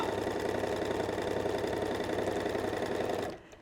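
Sewing machine stitching fabric at its longest stitch length to gather it, a steady close mechanical whir running continuously for about three seconds before stopping abruptly.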